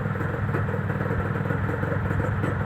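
A two-stroke Yamaha F1ZR motorcycle engine runs close by with a loud, uneven, crackling putter, idling with a raspy rhythmic clatter and no voices over it.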